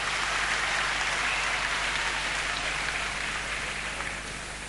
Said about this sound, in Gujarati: આવો જોરદાર તાળીઓના ગુંજારવ સાથે એમનો આવકારો કરીએ